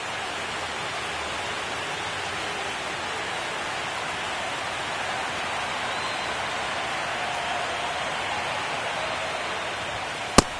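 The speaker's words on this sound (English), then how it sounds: "It feels like we might be headed towards a rain delay if the weather doesn't ease up, Chris." Rain falls steadily at a baseball game while Max Muncy bats. It makes a continuous, even hiss with no breaks and no voices over it.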